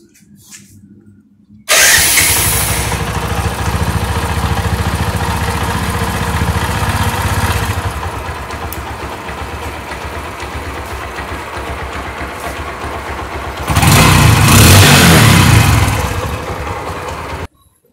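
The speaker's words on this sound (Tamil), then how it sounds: "வண்டி ஸ்டார்ட் பண்ணி பார்க்கலாம்" A motorcycle engine cranks and starts after a water wash service, then idles steadily before revving up louder near the end, close and loud with no talk.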